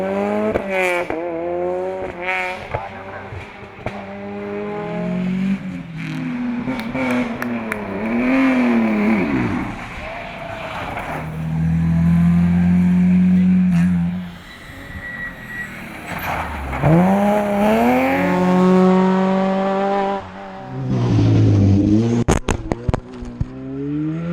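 A Ford Sierra Cosworth rally car races along a historic rally stage in Spain's Rias Altas, its loud engine revving and shifting through repeated acceleration runs, with near passes and hard pulls across the whole stretch.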